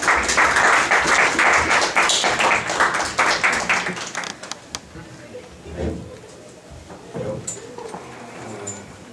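Audience applause opens a session at a psychoanalytic psychosomatics conference, a dense burst of many hands for about four seconds that quickly thins to scattered claps and a quiet hall.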